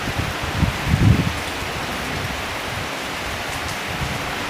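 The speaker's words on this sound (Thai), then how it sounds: "บรรยากาศข้างๆฝนตก" Heavy storm rain pours down in a dense, steady hiss outside a house on high ground, with a couple of brief thumps near the start and no voices.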